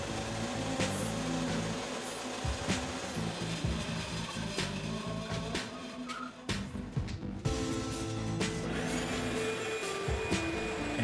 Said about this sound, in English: Then back to the bandsaw.